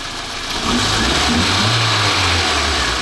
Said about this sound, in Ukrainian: Прокачалися гідрики і двигун заспівав.